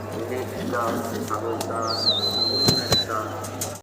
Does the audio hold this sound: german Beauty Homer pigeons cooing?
yes